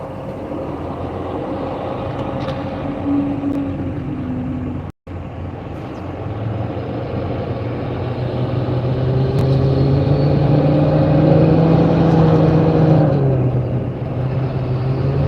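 A car drives along a road at sunrise in Tennessee, with steady engine and tyre hum and a gradual rise and fall in pitch as it speeds up. The drone is continuous and close, with no talking.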